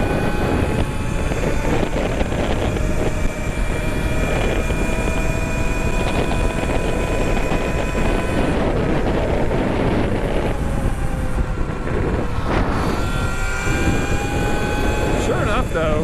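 Sur-Ron MX electric dirt bike on a high-speed run, a sustained whining motor tone that shifts in pitch, buried under constant roaring wind buffeting.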